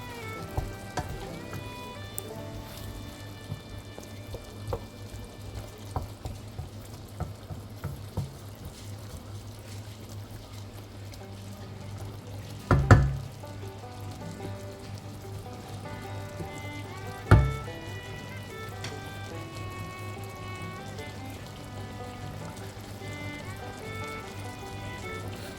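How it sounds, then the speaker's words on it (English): Tomatoes cook in a pan for a chicken curry, giving a soft, steady sizzle and bubbling beneath a low hum, with a few louder clanks of a utensil against the pan, no talking. "add some tomatoes and mix through, and then simmer until the tomatoes are cooked"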